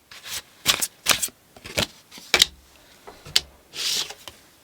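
Tarot cards being shuffled by hand, a series of brisk riffling bursts and soft slaps in uneven rhythm, close and crisp, with short gaps between each burst and no talking.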